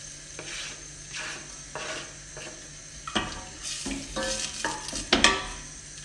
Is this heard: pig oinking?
no